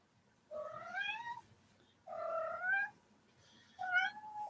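Young cat meowing indoors, three drawn-out, rising-and-falling meows spaced about a second apart, fairly quiet and close, with no talk over them.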